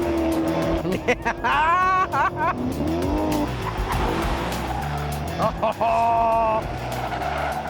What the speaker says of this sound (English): this is a 4-door saloon car, but it sounds utterly magnificent